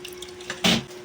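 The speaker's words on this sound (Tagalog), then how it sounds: "So, buhos na natin lahat to guys ha" Hot boiled jelly mixture for a papaya dessert poured out in one short splashing gush after faint drips, close and brief, with a low steady hum underneath.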